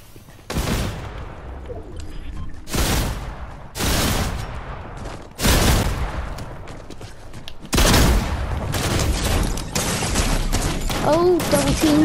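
Shotgun fire in Fortnite, with heavy booming blasts spaced a couple of seconds apart and a rapid burst of shots near the end, mixed with game sounds and a voice speaking under the action.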